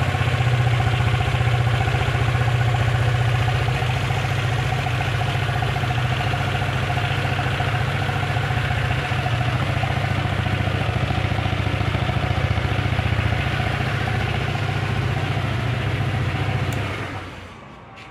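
A Kymco DTX 360 scooter engine idles at close range with a steady, even hum for a long stretch, then cuts off near the end.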